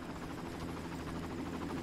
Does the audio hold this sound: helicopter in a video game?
yes